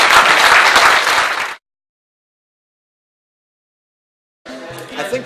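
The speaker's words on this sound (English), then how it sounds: "Big round of applause to everyone in this group." Audience applause at a Startup Weekend event, a dense burst of clapping that stops abruptly, followed after a pause by lighter scattered clapping.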